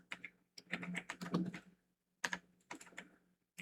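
Close keystrokes on a computer keyboard, tapped in two quick bursts with a short pause between them and no talking.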